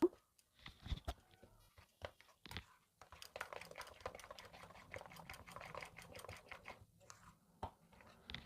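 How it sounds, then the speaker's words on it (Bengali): Semolina (suji) and yogurt are stirred together in a bowl with quick, irregular wet scraping and tapping strokes, close and fairly quiet, and a few sharper clicks near the start. "দইটা সুজির সাথে খুব ভালোভাবে মিশিয়ে নেব।"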